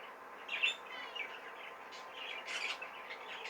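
Zebra finches chirping inside a shed: a steady run of small, high tweets and calls, moderately faint and close together, with no voices over them.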